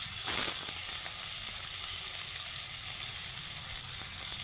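Chopped onions fry in hot oil for Bengali fish curry, a steady bright sizzle holding evenly throughout with a brief louder crackle near the start, close and continuous with no voices.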